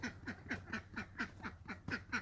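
Homestead ducks quack in a quick repeated series, with about ten rhythmic raspy calls close by and no talking.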